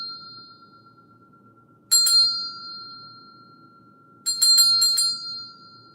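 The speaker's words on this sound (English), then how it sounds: "It's like we have a little bell, right?" A small, bright bell rings clearly in a quiet room: first a single ring, then after a pause a quick cluster of several rings, each fading away.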